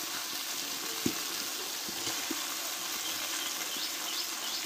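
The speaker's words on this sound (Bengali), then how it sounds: "দিয়ে এবার কষতে থাকবো মাংসটা।" Chicken and potatoes frying together in a pan for a spicy Bengali-style chicken dish make a soft, continuous sizzle, with a few light knocks as they are stirred.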